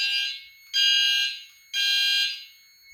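Fire alarm system sounding during a test: three loud, steady electronic tones, each lasting about a second with short gaps between, ringing alone with no voices.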